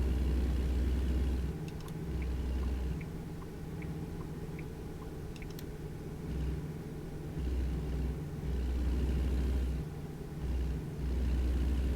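A truck's engine strains to accelerate on the road while trying to overtake another vehicle, heard from inside the cab as a steady low rumble that swells and dips slightly, with no talking.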